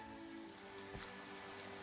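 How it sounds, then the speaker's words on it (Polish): Steady, soft rain patters continuously in the Minecraft game world, a faint even hiss with no other sounds. "Serio? Deszcz?"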